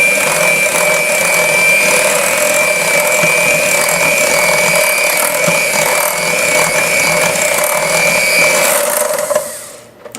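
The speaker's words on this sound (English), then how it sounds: "Let me grab my mixer, rinse off the cream. Okay, we're just going to make this a nice smooth batter" An electric hand mixer whirs through crepe batter for strawberry crepes, a loud, steady, high motor whine that holds for several seconds and then cuts off abruptly at the end.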